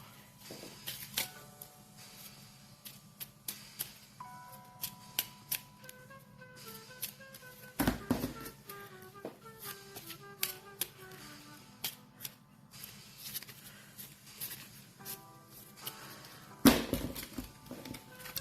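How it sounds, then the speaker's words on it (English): Cards from the board game Habitats being shuffled by hand in small sections, a run of crisp riffling snaps and flicks in uneven bursts, close and fairly quiet, with a few louder rustles. "I'm going to shuffle each section individually, and then I'll shuffle everything together."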